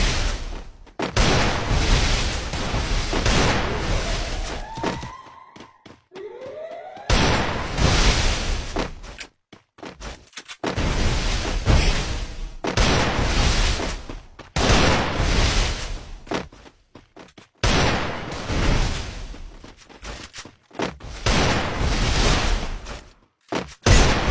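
Gunfire in a shooting video game match, long bursts of rapid shots and booming blasts separated by short quiet gaps, loud and near throughout, with no talking.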